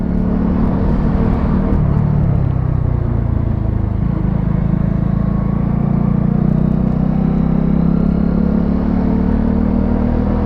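A Honda CB 125R motorcycle on a road ride, its engine droning steadily throughout with small shifts in pitch and constant wind rush, loud and close, with no voices.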